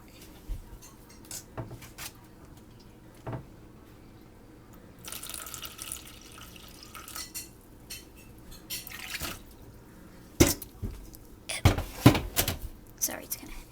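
Water being added to a sand-and-water ocean erosion model, with soft splashes and trickles alongside clinks of dishes or utensils and a few sharp knocks, heard close and intermittently with some talk around it.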